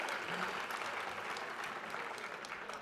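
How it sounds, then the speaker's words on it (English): A large audience at a university State of the University event applauds a senior vice president joining the stage, a dense, even wash of clapping heard from a distance and sustained throughout. "You could applaud for Jim too."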